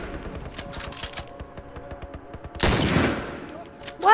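Video game gunfire in The Last of Us Remastered, a rapid run of sharp clicking shots followed by a louder burst of blasts and a final crack near the end.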